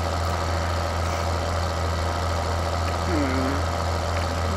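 Steady low idle of a tractor engine in the farming game Farming Simulator 2013, a constant mid-low drone running throughout with a brief faint tonal chirp partway through.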